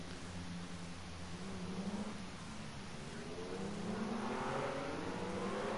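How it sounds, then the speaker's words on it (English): Several BMW M1 Procar engines roaring steadily out of the pit lane at Spa-Francorchamps in a racing game, a continuous moderate drone with revs climbing near the end. "As the cars roar out of the pit lane for their outlaps."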